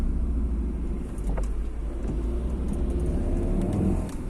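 A car pulls away from a stop sign on a Polish road, a steady low engine rumble with road noise holding close and even throughout, no talk over it.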